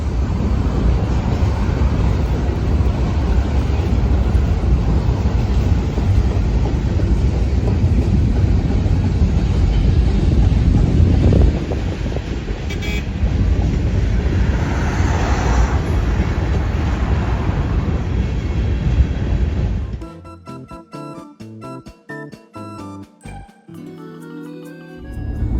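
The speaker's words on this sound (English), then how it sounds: "Train, like there's the train right there." A train passes close by with a loud, steady roar and rattle lasting about twenty seconds, then the noise drops away suddenly into quieter, patterned sounds.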